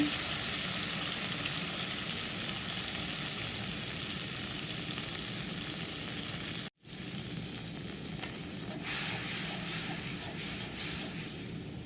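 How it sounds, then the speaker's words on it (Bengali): Chili, coriander and turmeric powders fry in a pan with a loud, steady, close sizzle and hiss that cuts out for an instant midway, then resumes. "সবগুলো মশলা একসাথে ভালো করে কষিয়ে নিব"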